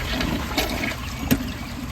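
A Glacier Bay dual flush toilet flushes with a rag and washcloth in the bowl, a steady close rush of water with a brief sharper gurgle partway through, heard alone.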